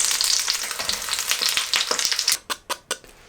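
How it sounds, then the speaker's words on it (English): Cheese-filled potato dough discs frying in hot oil in a pan: a dense, continuous sizzle with crackling pops, shifting to a few distinct sharp spatters and bursts near the end. "Heat up some oil and then put them into the fry pan, and then leave for a couple of minutes and flip until they look nice and crispy"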